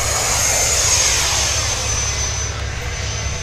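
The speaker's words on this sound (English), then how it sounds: "I'm still learning this jet, haven't flown it in 2 weeks." A Freewing Eurofighter v3 90mm electric ducted-fan RC jet flies overhead, a loud, steady whooshing whine that slowly fades slightly as it passes, with no talking.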